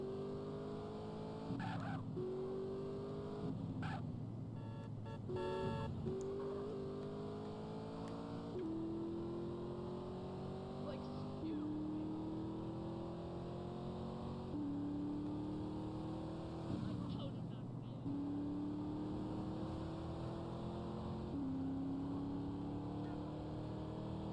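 A fast car driving in the video game GTA Definitive Edition: a steady engine drone that climbs in pitch through repeated gear changes over a long stretch, loud and continuous, with no voices.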